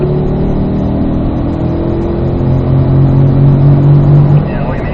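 A car pulls hard in fourth gear down the straightaway of the Spring Mountain North Course race track, its engine a loud, steady mid-pitched drone with a slowly rising tone, heard from inside the cabin.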